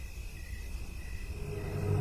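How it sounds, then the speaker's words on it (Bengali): Crickets chirp in a continuous, high-pitched trill over a low background rumble that swells slightly toward the end. "ঝিঝি পোকাদের ডাক"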